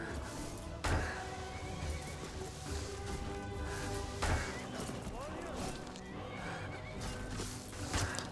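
A horse whinnies and neighs in Skyrim amid clopping hooves and dense game sound effects, with a voice talking over the noise.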